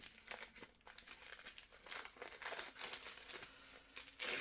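Heavily taped gift wrapping is crinkled and torn open at close range, with continuous rustling and crumpling paper and sharper ripping bursts, fairly quiet overall.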